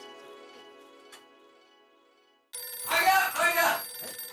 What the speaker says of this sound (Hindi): अब एक मिनट, हाँ मैं अय्यर को एक बार फिर से फोन कर लेती हूँ।